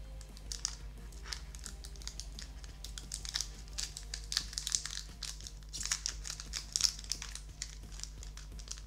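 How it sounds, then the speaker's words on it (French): Crinkly foil wrapper of a Pokémon card booster pack from a Charizard box being torn and crumpled open, a close, steady run of small crackles and rips throughout. "on va ouvrir le booster, je vais essayer de l'ouvrir super bien"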